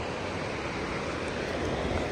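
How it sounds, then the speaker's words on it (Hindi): Rushing stream water in Sharan forest roars as a steady, dense, broadband wash, close and continuous with no pauses. "पानी का शोर, पानी का शोर आपको महसूस हो रहा होगा"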